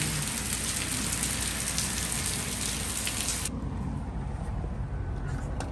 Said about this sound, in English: Okay, it's raining hard now.